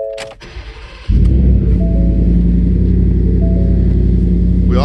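A supercharged 650 hp Ford F150 pickup, 2019 FCP Superquake Edition, cranks briefly and fires into a loud, deep, steady idle rumble that holds close and constant with no talking.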